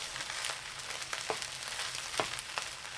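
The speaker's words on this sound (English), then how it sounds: "Add the egg whites. Stir for 1 minute still on high heat." Egg whites sizzle and fry with rice in a pan over high heat, a steady close hiss broken by a few soft stirring scrapes.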